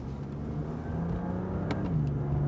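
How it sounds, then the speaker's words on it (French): A BMW M2 Competition accelerates down a straight on a race circuit, its engine note droning and rising steadily from inside the car, with a brief click partway through. "Je suis en ligne droite, j'accélère."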